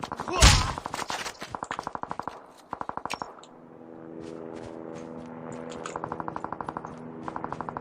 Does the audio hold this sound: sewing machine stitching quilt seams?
no